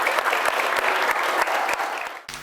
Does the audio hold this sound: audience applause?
yes